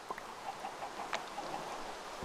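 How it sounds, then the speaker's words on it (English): Several soft clucks from chickens in a video game, scattered and fairly faint, with a quiet background hum. "Whoa, a lot of chickens."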